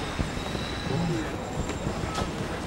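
Rumbling rail vehicle noise with faint metallic squeals and clicks, a steady interior or platform hum of a tram with some voices in the background.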